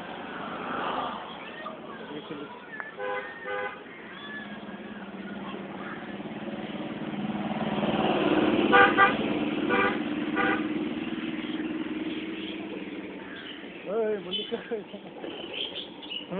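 A lorry on the road builds into a rising rumble that peaks midway and then fades, with several horn toots nearby. Voices talk over it, and birds chirp now and then.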